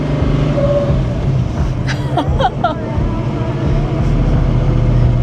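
A 1967 Ford Mustang pulling away in second gear, a loud steady low engine drone heard from inside the cabin with brief squeaky interior noises partway through.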